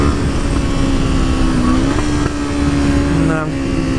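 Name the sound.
Suzuki GSX-R motorcycle engine while riding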